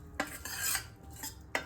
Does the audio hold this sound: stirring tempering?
yes